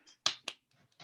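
A few weak, scattered hand claps from students in a classroom, sparse and soft, two quick claps close together and another after a short pause, with quiet room sound between.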